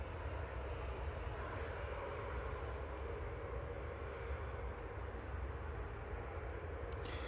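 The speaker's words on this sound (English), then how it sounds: "that EasyJet that's just landed" EasyJet airliner landing at Manchester Airport, a continuous distant jet roar that holds steady and fairly faint throughout, with no voices.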